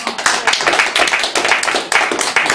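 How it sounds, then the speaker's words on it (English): Clapping for a performer named Ben, close and fairly loud, with uneven bursts of hand claps swelling and dipping over a couple of seconds. "More applause, please, for Ben."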